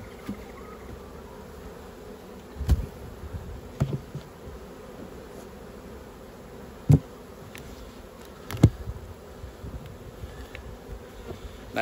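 Honeybees buzz around an opened hive, a faint steady hum with a few louder passes as single bees fly close by, against a quiet outdoor background.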